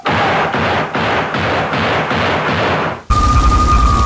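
Loud, rapid bursts of gunfire in the video game GTA III repeat in a steady rhythm for a few seconds, then cut abruptly to a different sustained sound.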